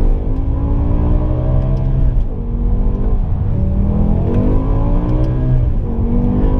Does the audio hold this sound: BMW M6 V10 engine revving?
yes